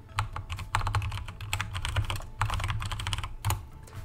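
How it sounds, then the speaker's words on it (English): Rapid clacking of keys on a computer keyboard as a name is typed in, steady bursts of close, crisp strokes with brief pauses, no voice. "just type in Renegade Raider"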